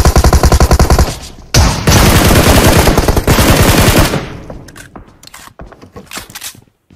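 Loud bursts of close gunfire ring out in Battlegrounds Mobile India, with rapid automatic volleys and heavy single blasts cutting in and out, then sparser shots trailing off.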